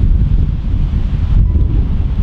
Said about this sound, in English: I apologise about the wind, it's proper windy.